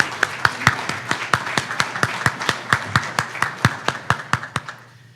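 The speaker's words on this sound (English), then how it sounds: "Let's give them all a round of applause." An audience at a business community event gives a short round of applause, a sparse run of distinct, fairly close claps in an uneven rhythm that thins out toward the end.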